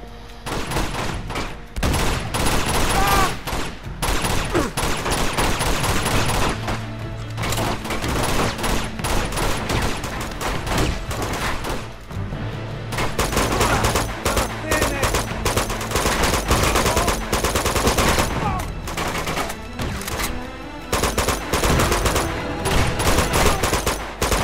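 Rapid, dense pistol gunfire from Uncharted 2: Among Thieves Remastered, shots cracking continuously for most of the stretch amid loud game combat noise, with a brief lull around the middle before firing resumes.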